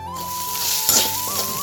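Okra frying with garlic in a pan gives a steady, close sizzle with a brief louder crackle near the middle and a faint tonal hum running underneath.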